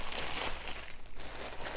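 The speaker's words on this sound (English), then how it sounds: "I start leaning into the bag to get the air out" Crinkly plastic rustling and pressing as a compression bag for packing luggage is squeezed to push the air out, with soft crackles coming in uneven bursts up close.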